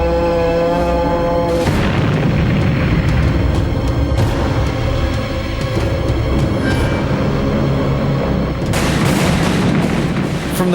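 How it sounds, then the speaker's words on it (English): A WWII anti-aircraft flak barrage rumbles as a dense, loud wall of booming explosions beneath a steady roar, with heavier bursts at the start and end. "From the ground, thousands of anti-aircraft guns filled the sky with flak."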